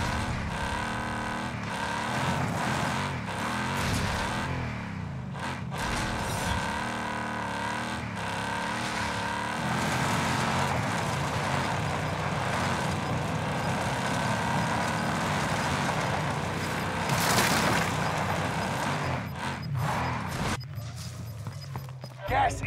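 A vehicle drives in the Call of Duty Warzone Pacific video game on the Caldera map with a steady engine drone, shifting revs and occasional bumps and clunks, while voices talk over it for the full stretch.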